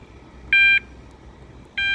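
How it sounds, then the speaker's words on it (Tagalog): A conveyor start-up warning at a gravel plant: two loud, steady electronic beeps, each under a second long and over a second apart, above a low background hum. "At kapag tumutunog po yan, ibig sabihin gagana na naman yung conveyor. So may warning siya na 5 second yata o 10 second."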